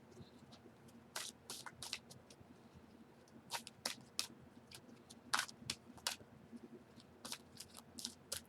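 Tarot cards are shuffled for a card reading, with quiet scattered flicks and riffling snaps in irregular bursts, faint and close, with no voice.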